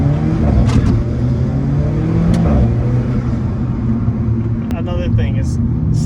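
An Alfa Romeo 4C sports car engine revs and accelerates, a loud, continuous low rumble from inside the car that swells and shifts pitch, with a voice talking over it.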